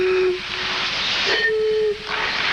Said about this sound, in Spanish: La botella pequeña produce un sonido más grave y ello depende obviamente también del largo del cuello